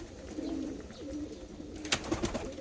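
Black Hungarian show pigeons coo softly nearby in a few low, throaty phrases, followed by brief wing flutters or shuffling at the end.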